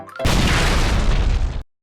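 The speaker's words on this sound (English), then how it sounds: "When you kill a grunt carrying a fuel rod cannon, the fuel rod cannon will then explode." A fuel rod cannon blows up in Halo: Combat Evolved with one loud, close boom that roars for about a second and a half before cutting off sharply.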